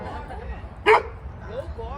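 Dogs let out near a garden give one sharp loud bark, with fainter whines and yips around it and someone talking throughout.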